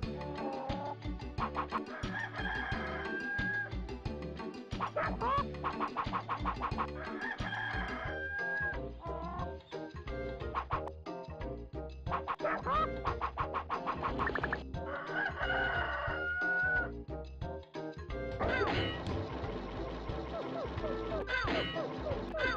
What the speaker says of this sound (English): The hens are playing outside of their coop and haven't been laying any eggs.